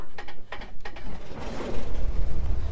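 The starter cranks a Piper PA-24-250 Comanche engine in the A2A flight simulator: several rapid mechanical clicks and grinding whirs, then a swelling rough, pulsing rumble as the engine catches and runs loud and close.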